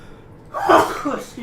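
A man sneezes once, a sudden loud, breathy burst close to the microphone, followed by a short exhale.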